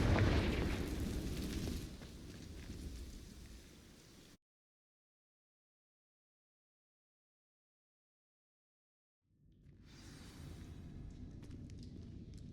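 Fiery blast of a Confringo fire spell igniting dry vines in Hogwarts Legacy: a loud roaring burst that fades over a few seconds, then a long silence before rumbling crackle returns.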